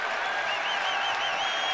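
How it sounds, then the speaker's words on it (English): Baseball stadium crowd noise during a 1-2 count, a steady sustained roar of the crowd with a faint whistle-like tone on top. "Crowd making noise on a 1-2 count"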